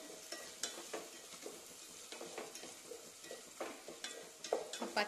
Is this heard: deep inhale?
no